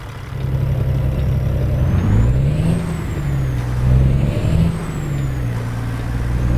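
A loud custom Peterbilt 379 truck in American Truck Simulator rumbles with a deep, steady engine drone, rising and falling as it revs, with a faint high whine above, no talking.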